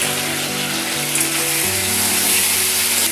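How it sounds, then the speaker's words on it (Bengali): Spices and tomato sautéing in a pan for a katla fish curry with cauliflower: a steady, close hiss of frying that holds evenly throughout, with no talking. "মশলা দিয়ে টমেটো দিয়ে আমি একটু কষিয়ে নিলাম।"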